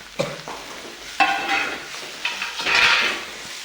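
Finely mashed roasted vegetable bharit is stirred and fried in a pan with a pinch of turmeric, giving several short scraping strokes with a soft sizzle in between, close and fairly quiet, with no talk.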